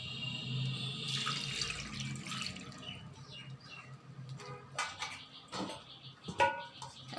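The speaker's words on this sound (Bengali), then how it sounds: "এখন এখানে আমি পানি দিয়ে দেবো।" Water is poured from a tap into a pot holding pieces of rohu fish, a steady splashing stream that gives way to drips, light clinks and handling noises.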